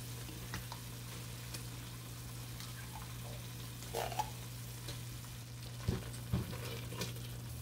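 Tomato paste sizzles faintly in a pot of Puerto Rican ropa vieja, a steady soft frying hiss over a low hum, with a few brief stirring clicks and scrapes near the end.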